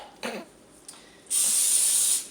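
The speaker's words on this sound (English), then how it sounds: "I'm going to spray a little bit of Pam on it" Cooking spray from an aerosol can hisses onto plastic wrap in one steady burst lasting about a second, preceded by a couple of faint handling noises.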